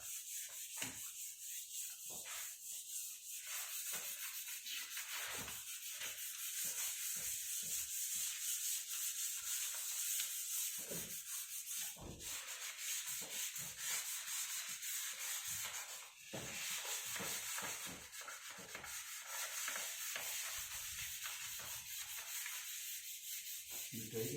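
Continuous sanding of a melamine finish coat on wood between spray coats, a steady close scratchy rubbing that runs throughout with short pauses and strokes of varying pace.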